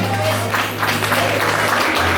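An audience at a slam poetry contest themed on a prosperous Haiti gives brief, continuous applause, heard steadily through the whole moment over a low electrical hum.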